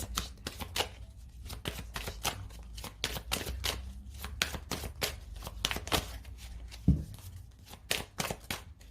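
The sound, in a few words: shuffling oracle cards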